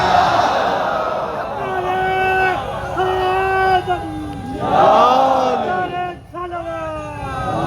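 A large crowd at a Shia religious gathering loudly chants religious slogans in unison, sounding close and energetic, with several rising shouted phrases in succession.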